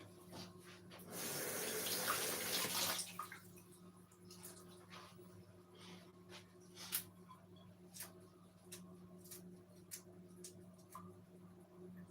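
Water from a kitchen tap runs for about two seconds while something is rinsed during lasagne preparation, then stops, leaving faint drips and small clicks in a quiet room.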